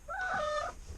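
A single chicken gives a short, tonal cluck-like call about half a second long, close and fairly quiet against a low background hum.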